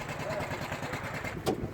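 Sodi go-kart engine of about 13.5 horsepower running steadily at a moderate, continuous drone, with a brief louder burst near the end as it revs.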